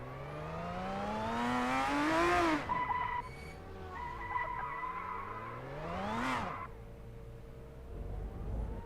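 A Formula 3 race car in a racing video game spins out, its tires skidding and squealing in long rising and falling sweeps over the engine's whine, then settling before engine noise picks up again.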